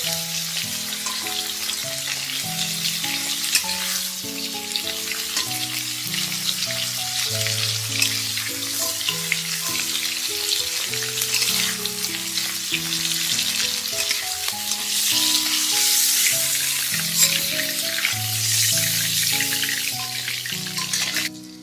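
Shrimp sizzle lightly in a pan of oil with a steady, bright frying crackle and occasional stirring. Music plays underneath the whole time, and the sizzle swells louder toward the end.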